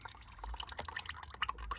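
Motor oil from the drain plug of a 2010 Subaru Forester drips in quick, irregular close drops, faint and continuous, with no voices.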